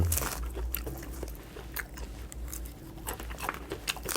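Fresh lotus seeds from an old, mature lotus pod being bitten and chewed up close, with soft crunchy bites and wet mastication sounds repeating irregularly and a low background hum.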